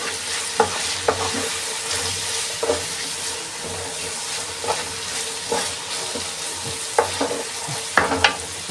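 Chicken hearts frying with onions in a pan are stirred in steady intermittent scrapes and clatters over a continuous close sizzle.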